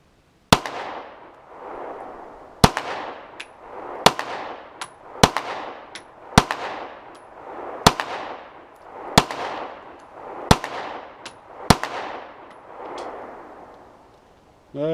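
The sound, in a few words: gunshots from a Browning Hi-Power pistol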